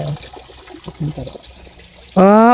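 Natural spring water at a resort shower area begins gushing loudly and suddenly near the end, a strong close rush following quieter handling noises and scattered faint talk.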